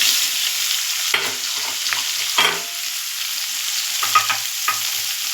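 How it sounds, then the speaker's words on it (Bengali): Chopped onions hitting a pan of already fried jackfruit seeds, giving a steady close sizzle with scattered scraping stir strokes, no talk. "কাঁঠালের দানাগুলো ভাজা হয়ে গেছে, এবার আমি পেঁয়াজগুলো দিয়ে দেবো"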